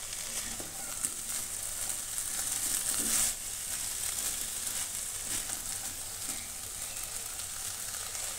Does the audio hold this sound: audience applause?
no